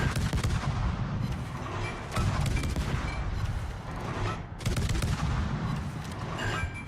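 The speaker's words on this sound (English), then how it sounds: "I'm sensing the California prepping to shoot me." Heavy naval gunfire from the battleship USS California in World of Warships, a dense, continuous rumbling barrage of booming shots, loud and sustained with brief dips, and no talk over it.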